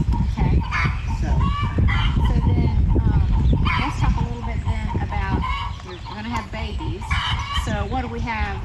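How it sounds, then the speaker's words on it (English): Several roosters crowing loudly at a small ruminant farm, overlapping calls with clucking and some honking fowl, and a person talking nearby. "I didn't want to get away where the roosters were. Yeah, they're very loud."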